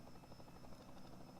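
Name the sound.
helicopter filming a race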